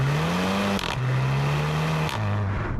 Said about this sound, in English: the sound the Octavia makes when changing gears at full throttle